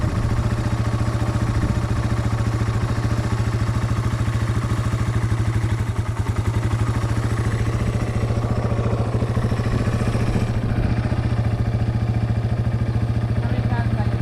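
A motorcycle engine idles steadily and loud through a beginner's riding lesson, with a constant low drone and a faint dip around the middle as the clutch is worked; someone talks intermittently over it.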